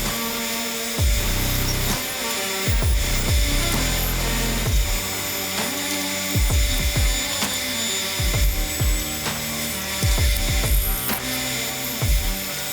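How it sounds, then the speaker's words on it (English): Bandsaw cutting wooden boards, a continuous motor whine with repeated surges and drops as the blade bites into the wood and each cut finishes, close and loud without talk. "So I'm gonna take it back over to the bandsaw."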